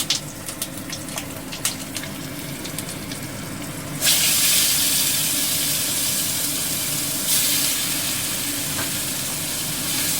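Onion paste hits hot oil seasoned with kalo jeera and green chilli for a Bengali tel koi fish curry, bursting into a loud, steady sizzle that flares again a few seconds later after some lighter clinks beforehand.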